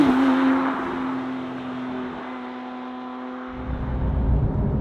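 A Porsche 911 992 GT3 with a manual gearbox drives along, its engine a steady, loud hum that eases slightly midway and then swells again, with no talking.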